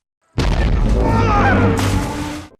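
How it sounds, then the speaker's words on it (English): A massive explosion in a sci-fi western film scene beside a river bursts in suddenly after silence, loud and sustained with a deep rumbling roar and a second crashing surge before fading. "Suddenly, a massive explosion erupts, throwing him into the water."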